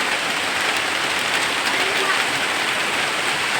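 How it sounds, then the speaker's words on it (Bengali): Rain falls steadily outside, a dense, even hiss of drops on surfaces that holds at the same level throughout. "বাইরে বৃষ্টি শুরু হয়ে গেল।"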